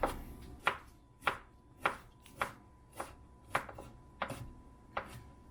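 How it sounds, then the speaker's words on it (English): Cauliflower being finely chopped with a knife on a board: about ten crisp, close chops in a fairly even rhythm, each a sharp knock with a short tail, alone with no talking. "just really finely chop up the cauliflower"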